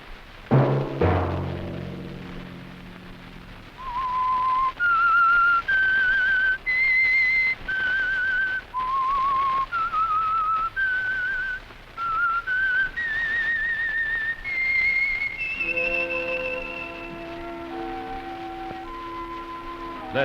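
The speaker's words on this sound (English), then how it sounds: "Let that whistle be your signal" A person whistles a clear, slow melody, note by note, as the theme of a 1951 radio drama, after a short musical flourish, with soft orchestral chords joining toward the end.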